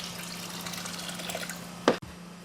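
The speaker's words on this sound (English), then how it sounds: "I'm just adding little cups of water here and there to get him used to the pond water" Small cups of water poured into a greenhouse pond to acclimate a new fish, a quiet steady trickle with one brief, sharper splash near the end over a faint background hum.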